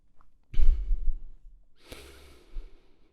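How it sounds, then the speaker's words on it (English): A person yawns and stretches close to the microphone: one long breathy yawn with a low groaning exhale, then a second airy sigh-like breath and a small faint movement sound, with no speech. "So there's my yawning and my stretching"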